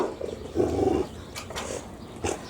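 An old dog of about 13 on a farm gives a low, rumbling growl in two short bursts, close and fairly loud, with no talking.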